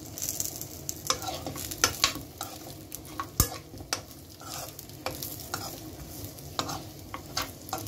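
Dried figs being fried and stirred in a pan, with a soft steady sizzle broken by repeated scraping and stirring clatters close by, no voices.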